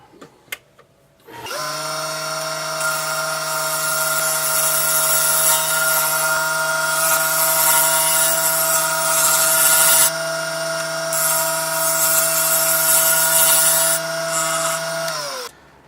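A steady high-speed whirring hum of a wood lathe spinning a wooden blank runs continuously after a few clicks, with the scraping, rubbing texture of a lathe tool layered on top.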